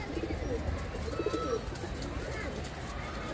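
Pet pigeon cooing softly in a loft setting, low murmuring coos heard close but faint, under someone talking and background noise.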